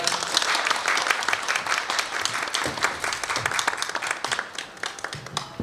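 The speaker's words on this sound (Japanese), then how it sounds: "大きな拍手でお迎えください。" Dense crowd applause, many hands clapping steadily and loudly at a bonsai demonstration, tapering slightly toward the end.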